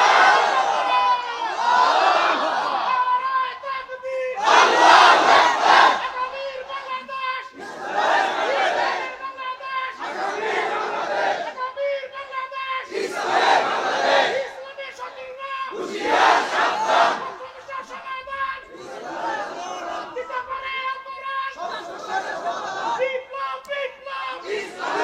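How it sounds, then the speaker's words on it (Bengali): A large crowd at a Bengali sermon gathering chanting takbir in loud, rhythmic unison, repeated bursts of massed voices rising and falling about every couple of seconds. "এবার একটা তাকবীর দে।"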